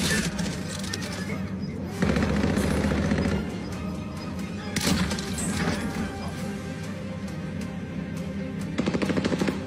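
Sniper rifle fire in a video game: dense, loud gunfire with sharp crack-like bursts over a constant noisy battle background, with voices faintly mixed in.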